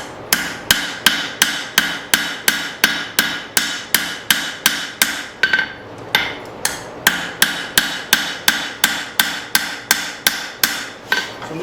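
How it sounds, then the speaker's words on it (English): A hammer rapidly strikes the spine of a hand-forged blacksmith chopper blade to bend a curve into it. Around two dozen loud, evenly spaced metallic blows ring out close by, with one brief pause partway through. "I'm just hitting on the back of the spine, trying to get a curve. Get a curve in the blade."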